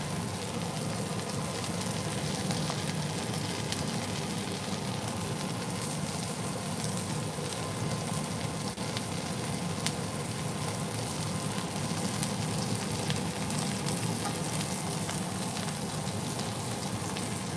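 Chicken pieces frying in a pan give a steady, dense hiss and crackle that holds evenly throughout without pause, close and moderately loud.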